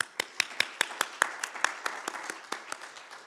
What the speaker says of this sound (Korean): 여러분들 스스로 위로해 주셔서 박수 한번 우리 한번 칩시다.